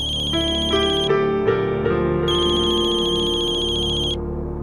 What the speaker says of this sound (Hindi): अर्जुन का ही फोन है